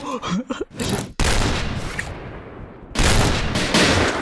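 Rapid automatic gunfire in the PUBG battle royale game, loud sustained bursts of shots that fill most of the span after a short stretch of excited voices at the start.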